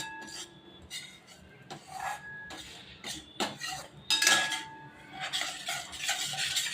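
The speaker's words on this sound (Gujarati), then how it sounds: "લોટ શેકાય છે એટલે હું તમને બતાવું છું." Urad flour being roasted in a pan and stirred, close rhythmic scraping and rasping of a metal spoon against the pan with occasional clinks and a faint sizzle, no talking.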